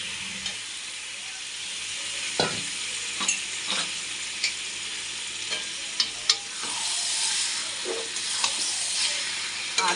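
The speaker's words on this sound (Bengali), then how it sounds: "এবার আমি মাংসের দই আর নুন মাখিয়ে রেখেছিলাম, সেটা দিয়ে দিচ্ছি।" Chicken marinated in yogurt and salt frying in a hot pan, a steady close sizzle broken by occasional sharp spatula scrapes and clinks as the meat is stirred, with no talking.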